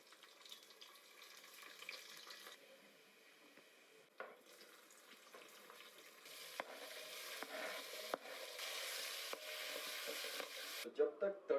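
Quiet sizzling and crackling of garlic frying in hot oil for a dal tempering, with occasional stirring clinks and a brief bit of running water.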